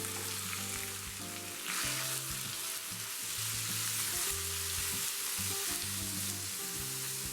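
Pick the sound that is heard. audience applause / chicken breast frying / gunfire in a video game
chicken breast frying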